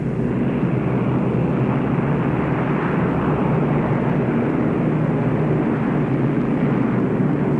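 Piston engines of an Avro Lancaster bomber, a four-engine RAF heavy bomber of the Second World War, give a loud, steady, unbroken drone that holds without pause, with no talk over it.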